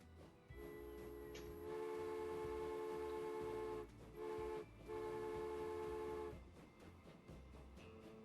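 A Baldwin six-wheel steam locomotive accelerates in the video game Transport Fever, rumbling along while long, sustained horn-like tones sound over it, broken by brief gaps before trailing off.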